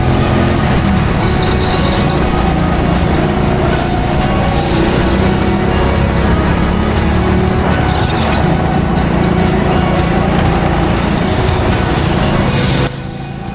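A go-kart rounds a corner on a kart track in Leicester, its loud, continuous motor roar and tyre noise filling the space before dropping away abruptly at the end.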